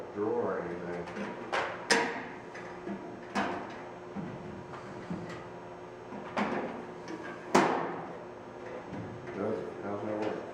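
Drawers of a Stanley tool kit handled during an unboxing: a series of sharp plastic clacks and slides at irregular intervals, close and fairly loud, with people talking between them.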